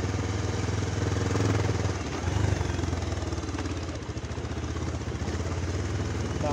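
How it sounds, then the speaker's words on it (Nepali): A motorcycle runs steadily on a rural road near Baruwa in Sindhupalchok, with a continuous mid-pitched engine drone and some rattle and wind buffeting. It holds fairly loud throughout with slight rises in throttle, and no voices are heard. "सुरेश दाइले बाइक चलाइरहेछ"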